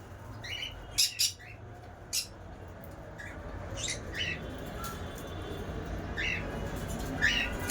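Caged conures and cockatiels give sharp, scattered chirps and squawks in short bursts, some close and loud, others softer, over a low background hum, with someone talking quietly between the calls.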